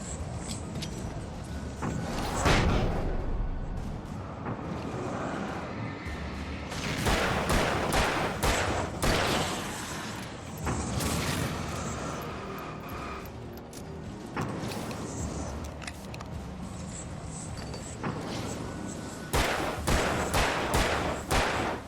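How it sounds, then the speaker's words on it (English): Gunshots in the video game Alan Wake come in several loud clusters of cracks and thuds, spread across a long stretch of noisy game action. "Nope. I'm shooting you."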